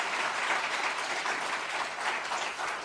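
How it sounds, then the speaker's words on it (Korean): Sustained, dense applause from a church congregation during a Sunday service, steady clapping filling the room at full strength for the whole stretch without pause or speech on top. "뜨거운 박수로 한번 격려하겠습니다"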